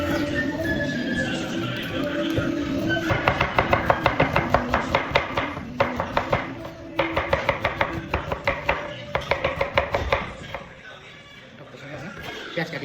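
Rapid knife chops through onions on a board, bursts of sharp evenly spaced strikes with short pauses between runs, close and loud, with a voice talking over the start.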